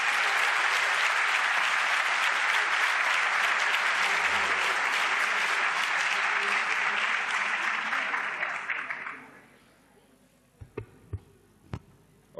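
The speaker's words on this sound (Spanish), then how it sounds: "al que pido un aplauso a todos ustedes" An audience applauds as architect Matías Klotz is introduced, a full burst of clapping lasting about nine seconds before dying away, followed by a few scattered knocks and handling noises.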